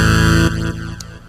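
Thor synth patch in Reason 5/6 played dry with its extra feature switched off: a sustained, buzzy chord with dense harmonics that cuts down and decays over about a second, a brief bright blip near the end.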